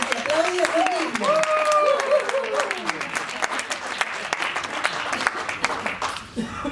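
An audience applauds at a magazine launch presentation: dense, lively clapping throughout, with voices and a few cheers or exclamations over it, fading near the end.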